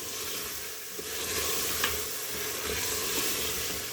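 Turnip pieces fry in a mutton masala, giving a dense, steady close sizzle with soft stirring movement throughout and no voices.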